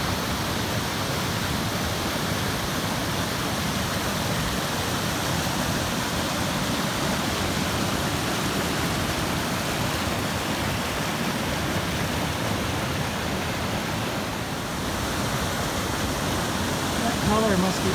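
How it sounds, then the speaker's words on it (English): Glacier waterfall at Worthington Glacier in Alaska, a steady broadband roar of rushing water that stays constant and fairly close throughout, with faint talk near the end. "It's a glacier waterfall."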